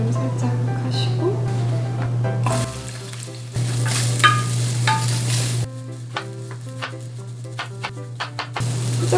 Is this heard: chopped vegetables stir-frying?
yes